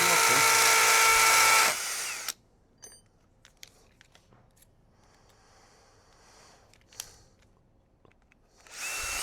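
A power drill bores a small hole into a wall for concrete bolts while fitting hit and miss fencing: a loud close whine for about two seconds, scattered clicks and knocks, then the drill starting up again at the end.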